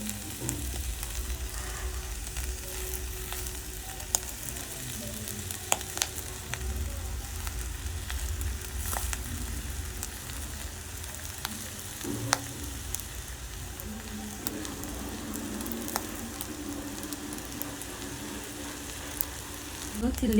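Boiled rice hitting hot oil in a pan for egg fried rice, a steady, close sizzle and crackle with occasional stirring clinks, continuing throughout at an even level.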